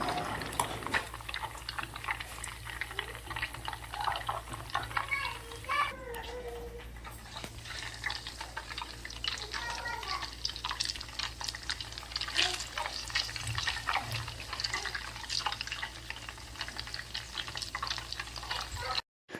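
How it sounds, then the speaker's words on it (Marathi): Ghee (clarified butter) in a pan on a home stove crackles and spatters after water is added, a dense, steady sizzling crackle heard close up for about twenty seconds. "वरून जेव्हा आपण पाणी सोडतो तर तेव्हा असा एकदम तडतडा असा आवाज येतो"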